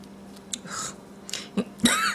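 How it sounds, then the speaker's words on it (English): A person coughs and clears their throat several times after choking, close and fairly loud, in short harsh bursts with breaths between, no speech. "I got kind of choked there"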